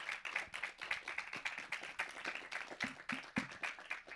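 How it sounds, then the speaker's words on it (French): A small audience claps at the close of a round table at a festival forum, quiet and fairly near, with the individual claps distinct and uneven as the applause carries on steadily before thinning out. "je crois qu'on peut les applaudir pour terminer"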